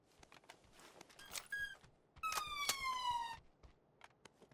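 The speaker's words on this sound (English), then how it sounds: "Excuse the sirens." A siren wails in rising and falling tones for about a second, then returns louder with a drawn-out gliding whine over faint background noise, during PUBG gameplay on Xbox One.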